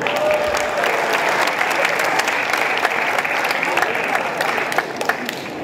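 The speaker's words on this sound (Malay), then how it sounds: "Sekali lagi kita berikan tepukan yang paling gemuruh" Audience applause after a song at the UPSI Leaders Colloquium 2023 opening ceremony, a steady sustained clapping from a large crowd in a hall, loud and even across the whole stretch.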